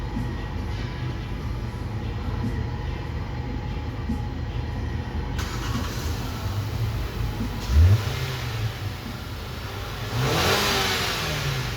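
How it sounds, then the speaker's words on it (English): A 2021 Nissan Sentra with a no-start, no-fuel fault idles with a steady hum, then its engine revs up sharply twice as gas is given, nearby and with no talking. "I'll give it some gas and"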